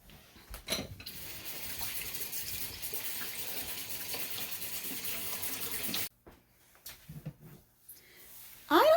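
Tap water runs steadily over frozen plastic containers of pasta sauce in a kitchen sink, a close continuous splashing hiss that cuts off abruptly, followed by quiet handling bumps and a brief squeak.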